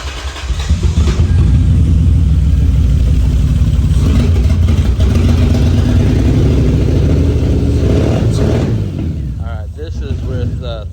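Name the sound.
2003 Lexus IS 300 engine running without exhaust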